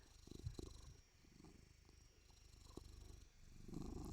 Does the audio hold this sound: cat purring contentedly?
yes